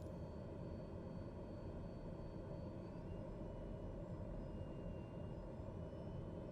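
An aircraft engine drones steadily in a flight simulator video game, a constant low rumble with no breaks or talk.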